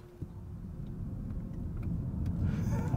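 A Rolls-Royce Spectre, an electric coupe with 577 horsepower, accelerates onto a highway. Heard from inside the cabin, a low road rumble swells smoothly and gently over about three seconds.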